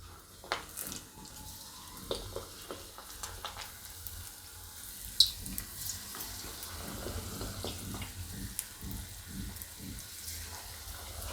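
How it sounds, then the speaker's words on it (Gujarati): Bardoli-style patra fries in hot oil, making a soft, low bubbling sizzle broken by scattered small crackles and pops, fairly quiet and with no talking. "આ રીતે નાખીને ઉપર આવે એટલે આપણું તેલ ગરમ થઈ ગયું છે તો આપણે આમાં તળી લેવું"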